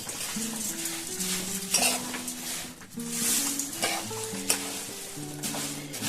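Puffed rice is stirred into melted jaggery in a pan, making continuous scraping and rustling with faint sizzling. Background music plays underneath throughout.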